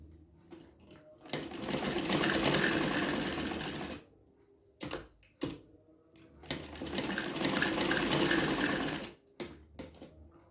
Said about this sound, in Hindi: अब इसी को हम सिलाई कर देते हैं